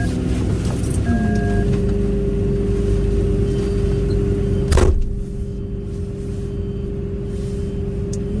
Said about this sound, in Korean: 차가 계속 들어오고 있습니다.